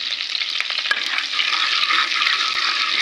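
Cumin seeds sizzle in hot butter and refined oil, a bright, close, steady frying hiss with faint stirring clicks throughout.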